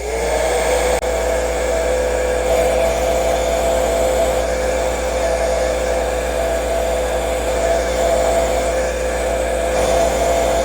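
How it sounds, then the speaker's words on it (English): A heat gun blows steadily and loudly for the whole stretch, warming bluing compound on a Remington 760 rifle, a constant whooshing roar with a faint whine and no breaks. "going to use a heat gun, and we're just going to warm this up to help that the bluing compound dry a little quicker"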